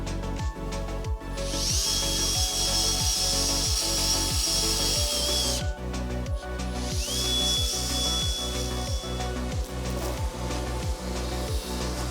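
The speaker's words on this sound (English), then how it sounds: "I'm gonna create a pilot hole, and then we're gonna go ahead and bore it out" Power drill boring into a Mk1 Audi TT quattro valve cover, two sustained high-pitched whining bursts of cutting over a loud, rhythmic thumping background, close up.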